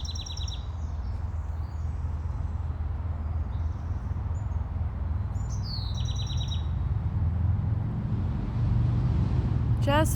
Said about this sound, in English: I hear some birds in this clearing.